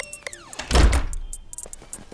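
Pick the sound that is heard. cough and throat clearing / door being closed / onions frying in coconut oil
door being closed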